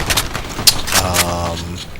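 Rapid bursts of 9A91 rifle fire in Battlefield Play4Free, several loud close shots cracking in quick succession over a busy game soundscape, with a lower rumbling tone sustained beneath.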